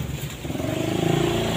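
A motorcycle passes on a street, its engine hum rising steadily and fairly close, heard faintly against the background.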